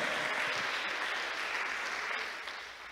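A church congregation claps in steady, dense applause that slowly fades toward the end, with no voices standing out.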